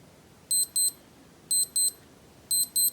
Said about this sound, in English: it's just your usual beeping sound